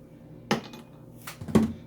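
Two sharp clinks as ice cubes drop into a glass, a brief rattle between them, with a quiet room behind.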